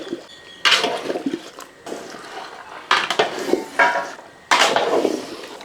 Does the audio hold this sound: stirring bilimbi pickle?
yes